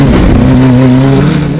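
A 2.1-litre four-cylinder turbocharged race car engine, boosted to about 1,000 horsepower, accelerates hard in a steady loud roar with a rising pitch, close by and with no talk over it.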